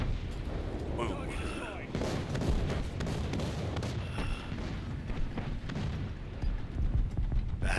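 Panzer IV C tank cannon in War Thunder firing at targets out of sight, heavy booming blasts amid constant rumbling battle noise, with a few sharper cracks standing out.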